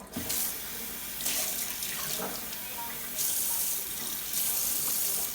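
A kitchen tap runs water to rinse a cut plastic bottle, a close, splashing stream that surges and eases as the bottle is moved under it, with faint voices in the background.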